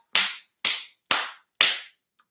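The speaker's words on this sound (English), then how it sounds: "I'm clapping because this is real." Four sharp hand claps in a steady, evenly spaced rhythm, close and crisp, each ringing out briefly before the next, then silence.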